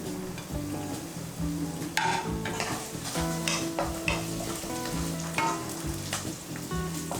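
Ginger, garlic and green onion stir-fried in oil for red-braised tofu: lively close sizzling with repeated scraping and clacks of a utensil against the pan in an uneven rhythm.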